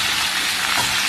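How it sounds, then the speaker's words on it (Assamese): Chicken pieces sizzle loudly and steadily in hot oil in a pan, a dense continuous frying hiss with no voices. "চিকেন ভাজি আছোঁ"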